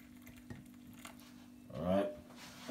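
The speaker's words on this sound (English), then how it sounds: "Pour some hot water." Hot water is poured over lemon slices in a cup, a brief splashy pour that rises in pitch after a couple of faint clinks, quiet and close.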